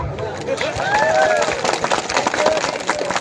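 An audience at a Tipra Motha Party mass gathering in Hrishyamukh claps in a dense, continuous patter under a loud amplified voice and crowd murmur.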